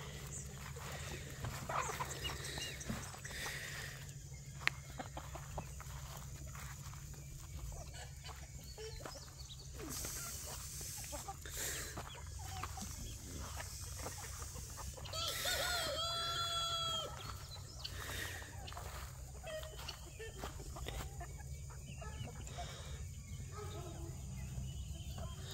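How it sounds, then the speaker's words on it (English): Chickens cluck steadily on a homestead at early morning while a rooster crows loudly several times, with a distinct crow near the middle, over a constant outdoor background hum. "Chicken life! Chicken power of the chicken!"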